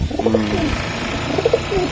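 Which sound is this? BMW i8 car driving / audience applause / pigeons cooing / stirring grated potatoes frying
pigeons cooing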